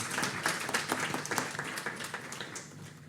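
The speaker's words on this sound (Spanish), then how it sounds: "Le brindamos también un fuerte aplauso." An audience at a university panel on green and social bonds applauds, a moderately loud, even patter of many hands clapping.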